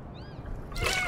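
A cartoon cat in the video game Little Kitty Big City gives a short high meow, followed by a sudden burst of splashing water.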